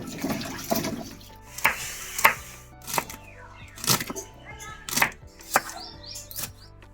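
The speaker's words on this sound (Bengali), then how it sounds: "এবার এই সবজিগুলোকে আমি একটু ধুয়ে নেবো" Vegetables rinsed under a running tap in a home kitchen, splashing water with repeated sharp knocks and clatters of pieces and a bowl at close range.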